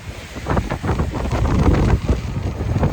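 Gusty wind buffeting the microphone outdoors at the seaside in Dedeağaç (Alexandroupoli), Greece, a rough rushing roar that swells and eases, with faint sea ambience beneath.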